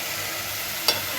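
Fried fish being stirred through a thick spiced masala in a pan, a single quick scrape over a faint background sizzle.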